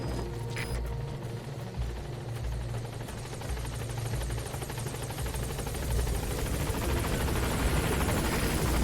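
A helicopter in the Metal Gear Solid V video game arrives at a landing zone, its rotor chop a steady, loud, continuous thrum that swells slightly toward the end, with no talk.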